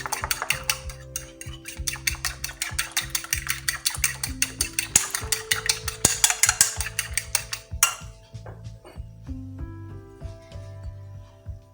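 An omelette mixture of beaten eggs and ground cumin is whisked briskly in a bowl, giving rapid rhythmic metallic clicks that run loud and steady, then slow into a few scattered taps near the end.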